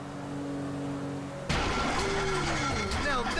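A damaged boat engine in GTA V sputters and strains loudly after an abrupt change, rough and uneven with rising and falling whines, while someone talks over it.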